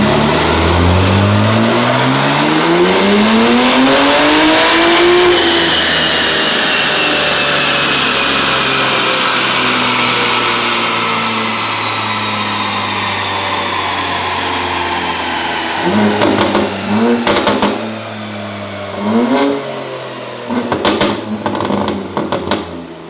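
A tuned BMW G8X engine revs hard, sweeping up steeply in pitch before settling into a loud sustained drone, then blipping through several sharp rev bursts near the end, close and without talk.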